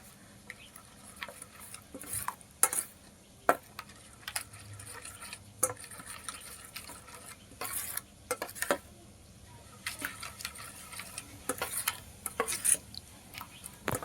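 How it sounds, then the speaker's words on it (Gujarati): A spoon stirs a besan mixture for capsicum sabji in a pan, giving soft scraping and scattered sharp clinks and taps at an irregular pace over a quiet background. "આ રીતનું આપણે મિક્સ કરી લેવું આ બધાને ડોઈને."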